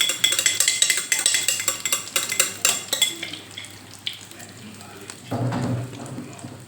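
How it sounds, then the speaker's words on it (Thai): A Thai omelette (khai jiao) of four eggs fries as a thin sheet in a hot pan, giving a steady crackling sizzle with scraping and clinks, then a louder, fuller burst of sizzling near the end. "ทอดไข่เจียวร้อนๆนะคะทุกคน"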